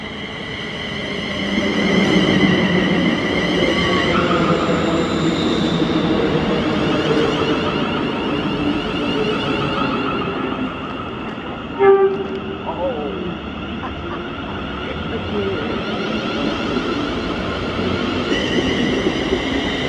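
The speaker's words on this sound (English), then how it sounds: "This is 2K86, the 1425 ScotRail service to Glasgow Central from Ayr." A ScotRail passenger train from Ayr to Glasgow Central runs through Paisley Gilmour Street station with a loud sustained rumble and whine of motors and wheels, a brief metallic clank midway, while a voice speaks over it.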